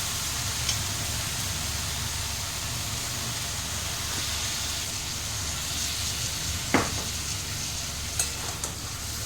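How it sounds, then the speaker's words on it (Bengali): Chicken curry sizzles steadily in a pan with splashes of water added, a constant hiss of frying. A few sharp clicks of a spoon against metal come through near the end. "একটু জল দিয়ে দিয়ে এটাকে কষতে থাকবো"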